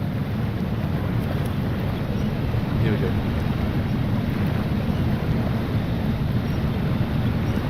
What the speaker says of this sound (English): This sounds really noisy, like I'm flying in an aeroplane. Probably the combination of our two engines.